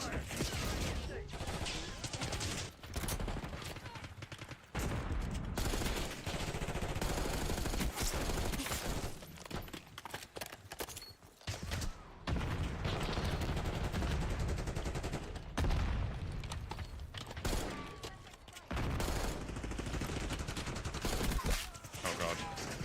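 Rapid gunfire bursts and explosions from Black Ops 6 multiplayer fill the stretch, loud and dense with short gaps, mixed with in-game voice callouts and a player talking over the action.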